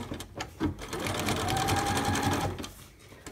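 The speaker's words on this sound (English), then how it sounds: "I'm just going to top stitch those really quick" A sewing machine runs in a steady, fast whirring burst while top stitching a wallet, starting after a few short clicks and slowing to a stop near the end.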